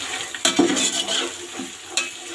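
Peas tossed into a pan of frying chicken for chicken fried rice, a spatula scraping and stirring through steady sizzling, with a few sharper clatters of metal against the pan, close and fairly loud.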